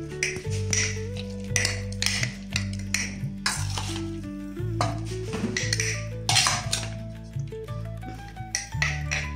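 Nepali bamboo shoot (tama) pickle is pressed tightly into a glass jar with a utensil. Close, repeated metallic clinks, taps and scrapes ring against the glass in an irregular rhythm, with no speech.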